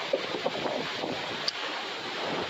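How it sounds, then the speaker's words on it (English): Strong gusty wind blowing at night in Jamaica, a steady broadband roar close on the microphone with brief louder gusts and buffets, no voices. "Wind is still just getting after it. It is blowing like crazy still."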